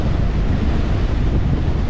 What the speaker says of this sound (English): But today's really windy